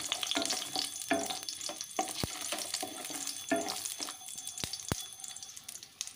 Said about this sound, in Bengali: বড়িগুলোকে একটু নাড়াচাড়া করে ভেজে নেব যতক্ষণ না এর মধ্যে ব্রাউন কালার হচ্ছে।